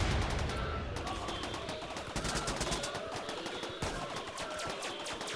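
Rocket fired in Rimworld combat, heard amid a rapid, steady rattle of repeated gunfire bursts with a crackling, dense texture, fairly quiet throughout and without speech.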